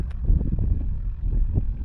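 Wind rumbles against the microphone on a small boat out fishing for flounder and turbot, a low, gusty buffeting that stays close and steady with no voices.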